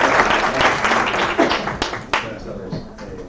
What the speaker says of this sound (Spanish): empezamos con un fuerte aplauso para que empiece a hablar